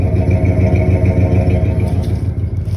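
A 1995 Ford F-250 pickup truck engine idles steadily nearby, a low rumbling throb with a light mechanical clatter, continuous throughout.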